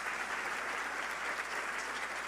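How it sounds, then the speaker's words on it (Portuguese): Continuous applause from an audience of school directors, coordinators and teachers at an education event, steady and fairly distant. "Aplausos, coordenadores, diretores"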